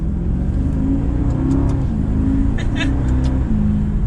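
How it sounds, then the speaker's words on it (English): A 2021 Maserati Ghibli Trofeo engine revs up under steady low exhaust rumble, with a voice talking over it in the foreground. "Automatically I could hear that exhaust get louder."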